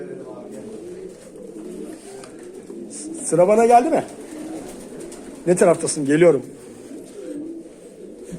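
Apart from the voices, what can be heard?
pigeons cooing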